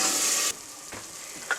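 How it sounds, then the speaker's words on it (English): Chopped tomatoes get a quick stir in a chicken curry pan: a loud sizzle that cuts off abruptly, followed by soft scraping and a small clink, up close. "Half a tomato can, chopped tomatoes, in the go. Give it a quick stir."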